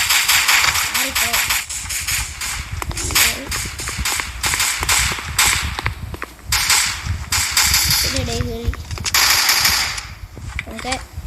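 Rapid bursts of gunfire ring out in a shooting video game, sharp cracks and automatic rattles in uneven clusters, loud and close, interspersed with brief pauses while a player talks over the action.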